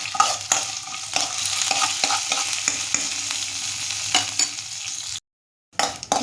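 Urad dal and curry leaves frying in oil in a pan for a Brahmi leaf chutney, a close continuous sizzle broken by repeated spoon scrapes and taps, with a brief silent gap near the end.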